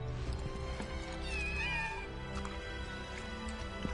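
A cat meows in Final Fantasy VII Rebirth, a couple of quivering, plaintive cries near the middle over a low ambient game background, with no talking.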